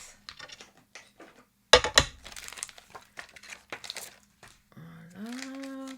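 Paper being handled for the inside of a handmade card: light crinkling and tapping rustles in short bursts, close and quiet, with a sharper crumple midway and a brief tonal whine near the end.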